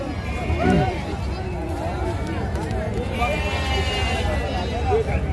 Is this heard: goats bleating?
yes